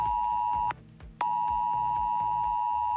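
A phone sounds an emergency disaster-warning SMS alert in Bulgaria: a loud, piercing steady tone that cuts out briefly, then resumes and holds on alone.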